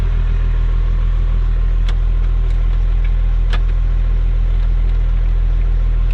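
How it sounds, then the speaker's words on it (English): A 1995 Dodge Ram 2500 4x4 diesel engine idling, a steady loud low rumble with constant drone and a few faint clicks on top, no voices. "It's been sitting here idling while I was doing the photos"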